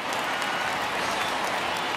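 A home baseball crowd in MLB The Show 19 applauds, a dense steady wash of clapping and crowd noise filling the stadium at an even level throughout.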